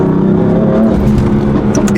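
A BMW M4 with a stage 2 tune accelerates hard, wheels spinning through second into third gear, its engine roaring loud and steady up close for the whole stretch.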